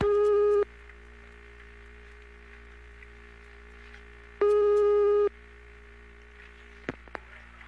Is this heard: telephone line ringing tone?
yes